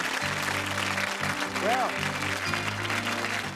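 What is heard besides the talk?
studio audience applause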